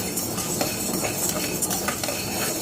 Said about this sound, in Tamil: ஸோ இதை வறுக்கும்போது லோ ஃப்ளேம்லேயே வச்சு வறுத்துக்கலாம்.